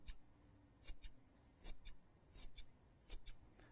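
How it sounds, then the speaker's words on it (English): Large fabric scissors snipping through fabric, sharp crisp cuts arriving in paired bursts roughly every three-quarters of a second, close and quiet with no talking. "with these scissors, I'll get the big boys, you can cut massive amounts or you can cut tiny little slithers."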